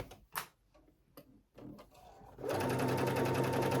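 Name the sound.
sewing machine stitching over the raw edge of a tank top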